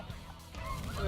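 Wild snow geese honk in a foggy hunting setting, a few faint, scattered calls against low rumbling background noise that grows slightly louder toward the end.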